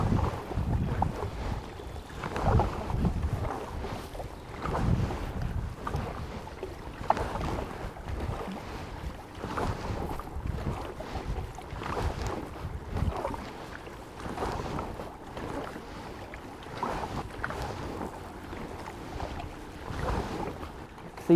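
A Seahorse tour boat motors along the Hayle Estuary, heard from a kayak as a steady, fairly distant engine rumble blended with gusty wind buffeting the microphone.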